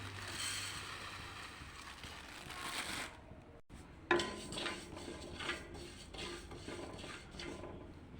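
Mung dal fries in a pan with a soft, steady hiss and light rustling, then after a brief gap come clinks and scraping stirs, close but quiet with no talk.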